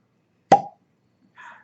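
A cork pops out of a West Cork Bourbon Cask Finish Irish whiskey bottle with one sharp, close plop. A faint rustle follows about a second later.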